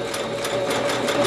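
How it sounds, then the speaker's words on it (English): A sewing machine stitches a quarter-inch quilting seam in fabric, a close, steady, rapid mechanical whir with evenly pulsing needle strokes throughout. "I can stitch a quarter inch seam more accurately"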